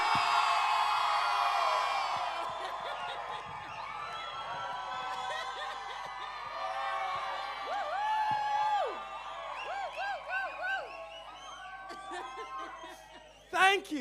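A conference audience at a Southern African regional students and youth gathering shouts, whoops and cheers loudly in a sustained crowd roar that tapers off, with a brief louder burst near the end.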